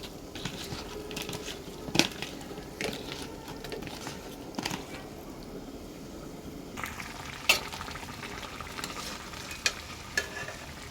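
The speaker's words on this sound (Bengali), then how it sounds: "এই পাঙ্কাশ মাছ ভাজি করব" Pangas fish fries in a pan with a soft, faint, continuous sizzle, broken by occasional scrapes and light knocks of stirring, heard close with no talking.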